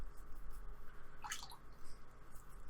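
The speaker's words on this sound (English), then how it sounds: "Just washing it in a bit of water." A paintbrush is swished and rinsed in a small pot of water while painting a winter forest scene, giving a brief, close splashy drip over a quiet room background.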